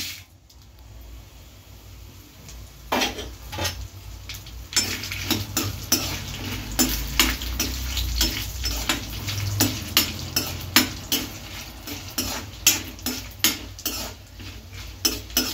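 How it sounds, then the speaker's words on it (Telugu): Ten dried red chillies and a spoonful of cumin frying together in hot oil, a constant sizzle with repeated quick clinks and scrapes of a spoon stirring in the pan, growing busier and louder over time. "ఈ రెండు కలిపి వేయించుకుందామండి ఆయిల్లోని."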